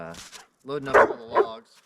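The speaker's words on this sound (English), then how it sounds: "Sorry about the dog." A dog barks a few times close by in short bursts, overlapping someone talking about loading logs onto a log truck outdoors.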